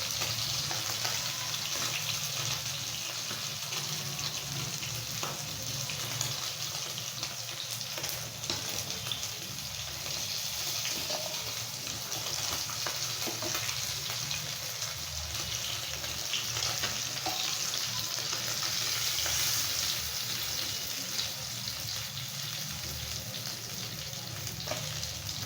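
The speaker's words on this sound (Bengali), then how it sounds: "বাকি মাছগুলো এবার ভেজে নেব।" Small parshe fish frying in hot oil in a pan: a dense, continuous crackling sizzle that holds steady at close range, with faint intermittent scraping of stirring and no voices.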